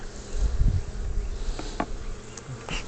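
Honey bees in a swarming top bar hive fill the air with a steady, dense buzzing hum, with a few individual bees droning close past now and then.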